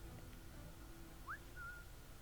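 In the video game Assassin's Creed 3 Remastered, the player character gives a short, faint rising whistle followed by a brief steady one, over a low ambient game background with no talking.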